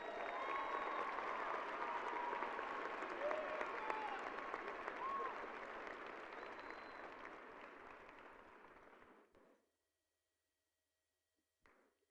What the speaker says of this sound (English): Another round of applause for our top 10 troopers.